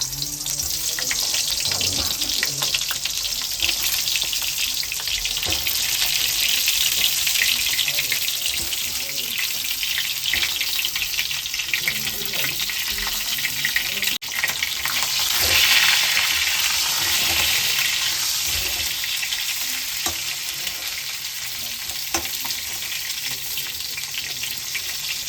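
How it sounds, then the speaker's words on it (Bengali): Eggplant frying in mustard oil for masala baingan, a steady dense hiss of hot oil that runs unbroken and fairly loud throughout, with faint clatter underneath. "দেবো সরষের তেল, বেগুনটা এখন দিয়ে দেবো।"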